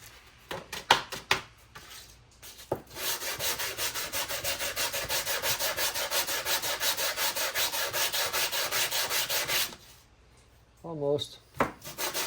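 Brake parts from a 1981 Corvette sanded to remove glazing, carbon and grease: a close, steady rhythmic rasping of back-and-forth strokes lasting several seconds, with scattered scrapes and clanks before and after.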